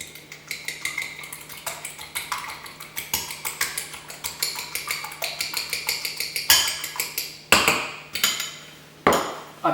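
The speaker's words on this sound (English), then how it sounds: "you want to give that a whisk" Cracked egg whisked in a bowl with a fork or whisk, a rapid run of rhythmic clinking taps against the dish, close and clear, broken near the end by a few heavier knocks.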